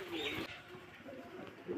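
Black Lahori pigeons coo softly in a loft, a low repeated murmur with a voice talking over it.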